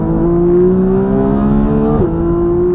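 A Porsche 911 GT3 engine revs loudly and steadily, pitch climbing, then briefly dips as it shifts and pulls on again.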